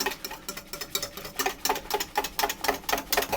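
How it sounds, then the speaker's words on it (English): A whisk scrapes and clicks briskly against a pan of lemon curd mixture over very low heat, making quick, rhythmic, fairly faint strokes that repeat steadily without voices. "So I have to whisk and stir all the time until this thickens up."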